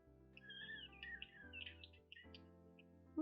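A pet bird chatters in a run of quick, high chirps and warbling tweets, fairly close, over a steady low background hum, with no talking during it.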